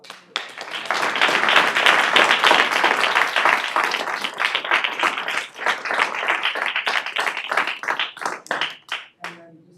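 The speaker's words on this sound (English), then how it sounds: "I think really just another round of applause." A conference audience applauds for about ten seconds, dense clapping swelling quickly and holding steady before thinning into scattered claps at the end.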